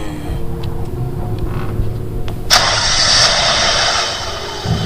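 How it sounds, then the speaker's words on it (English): A car engine starts up with a sharp burst, then runs loud and steady as it revs, close by, with a low rumble underneath throughout. "they had began revving their engine."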